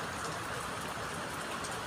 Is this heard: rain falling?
yes